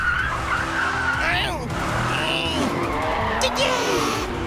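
A kart spins out and skids in a racing video game, a sustained tire squeal sweeping up and down over a droning engine while a commentator speaks excitedly.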